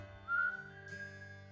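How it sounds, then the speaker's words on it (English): A man whistling a sustained, eerie tune with a ghostly quality in an allegedly haunted old house, faint and alone, with a brief rising swell near the start and a slide near the end. "The sound of a man whistling and even calling your name are said to sometimes be heard here."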